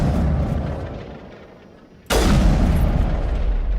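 Gunfire aimed at a Geth transmitter in the Mass Effect video game, a sudden loud burst of booming shots that starts partway through and continues hard, after a quieter stretch of game ambience.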